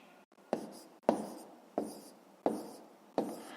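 A pen writes numbers by hand during a math long-division exercise, producing five scratchy strokes at a steady rhythm, close and fairly quiet, with no talk.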